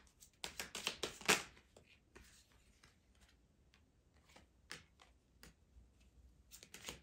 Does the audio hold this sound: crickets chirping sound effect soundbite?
no